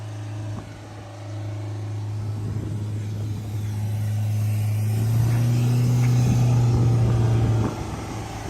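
A Mahindra Thar SUV engine revs under constant throttle during off-road self recovery, a steady droning hum that climbs in pitch and loudness before dropping off near the end, close and alone.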